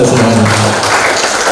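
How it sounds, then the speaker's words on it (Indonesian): An audience at a leadership training session applauds, a loud, dense wash of hand claps that fills the whole moment, with a voice briefly heard at the start. "Tepuk tangan dulu untuk Anda semuanya"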